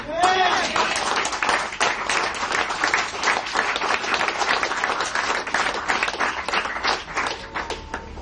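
Church congregation applauds during a worship service, a dense, lively round of hand clapping sustained throughout at close range.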